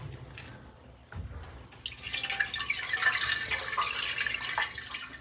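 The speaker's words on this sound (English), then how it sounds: "There's one last thing I want to do right now, and that's fill the radiator with water." Water pours steadily into the radiator of a barn-find Austin-Healey Sprite, a rising splashing gurgle that starts faint with a few drips and builds to a continuous fill, close by and without talk.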